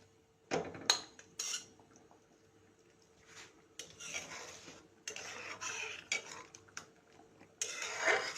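Fried ash gourd goes into a pot of simmering coconut milk curry with spices, making clattering utensil and pot knocks, scraping and stirring in uneven bursts with quiet gaps between them.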